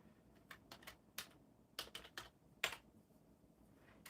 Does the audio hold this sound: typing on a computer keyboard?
yes